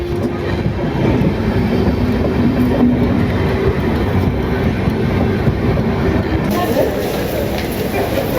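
Train running on rails from Sealdah toward Siliguri Junction, a loud, continuous rumble with wind rush and faint rhythmic clatter filling the whole stretch without a break.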